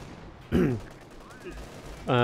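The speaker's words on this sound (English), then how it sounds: "Heavy armor firing." Heavy armor firing in the video game Company of Heroes 2, two loud booming cannon shots with short rumbling tails and a faint sound between them.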